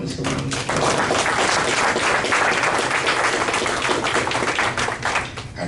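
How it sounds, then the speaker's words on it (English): An audience gives a panelist at a discussion event a round of applause, dense steady clapping that holds loud for several seconds before easing slightly at the end. "Please give our second panelist a round of applause"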